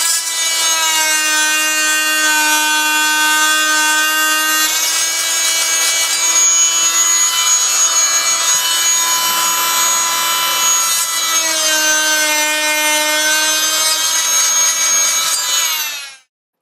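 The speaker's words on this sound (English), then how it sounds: "We're just going to cut the tops of the plugs off. You've seen this tool before. It's the fine tool. It has an oscillating blade." An oscillating multi-tool cuts the tops off wooden deck plugs with a loud, continuous, high buzzing whine that varies slightly as the blade bites. It runs close for about sixteen seconds, then stops abruptly.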